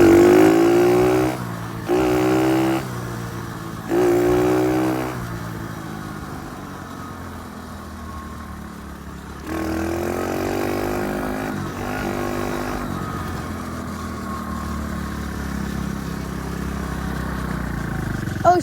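A dirt bike ridden through the West Virginia mountains revs in three short rising bursts, then settles into a steadier, throatier drone that swells again near the end, loud and close.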